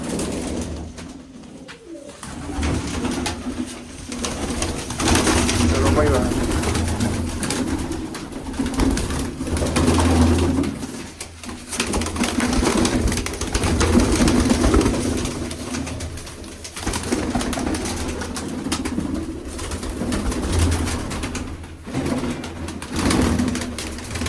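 Pigeons on a farm coo repeatedly in soft, low, throaty calls, overlapping steadily throughout against a busy background with a few brief knocks.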